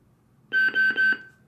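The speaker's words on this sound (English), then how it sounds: "So once it beeps, you're actually able to change the color of your saber." Three quick electronic beeps in a row from a JQ Sabers Apprentice Pico v2 lightsaber soundboard, clear tonal chirps close to the microphone against a quiet background.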